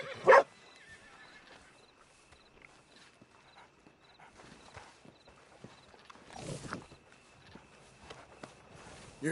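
A dog in the Red Dead Redemption 2 game gives a sharp bark near the start and again later, amid quiet footsteps and faint horse sounds in the background.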